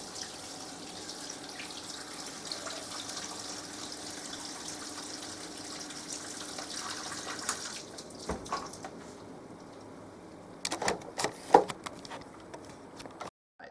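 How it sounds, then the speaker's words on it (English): Water from a small pump pours steadily into a reef aquarium tank, with faint continuous splashing and a few louder knocks and clatters toward the end. "I've just hooked up a small pump, and it's just going to make my life so much easier, because I'm just going to be able to pump the water straight into the tank"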